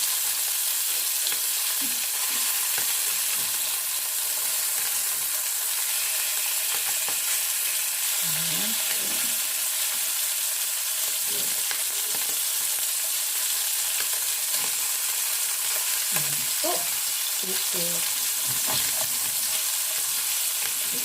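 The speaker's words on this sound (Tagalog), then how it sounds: "tuloy-tuloy lang po natin lutuin yung kabilang side" Salmon frying in a pan, a constant hissing sizzle throughout with occasional soft scrapes and clinks of a utensil, close and steady with no talking.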